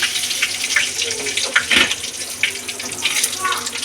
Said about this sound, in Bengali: এবার ফোড়নে যাবে শুকনো লঙ্কা, তেজপাতা আর গোটা জিরে।